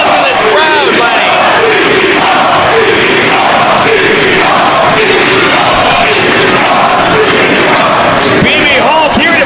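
A wrestling arena crowd at a DGUSA title match shouts, cheers and bellows continuously, a loud dense roar with rising whoops and cries throughout, no individual voice standing out.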